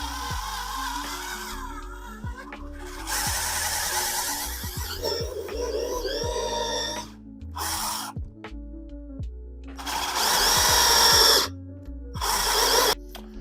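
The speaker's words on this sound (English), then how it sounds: "And then we can go ahead and drill the next 2." A power drill whirs in several bursts, revving up and down between pauses while drilling holes in ice skates being converted to roller skates, with clicks and handling noises in between.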